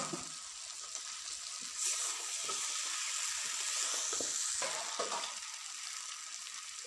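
Fried fish heads added to spice paste for a Bengali fish-head chorchori sizzle and crackle in a hot pan, a steady close frying hiss that swells and settles with a few stirring scrapes.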